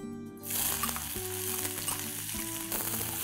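Two large finely chopped onions go into reheated hot oil and set off a loud, steady sizzle that covers the whole stretch. A faint tonal hum runs underneath it.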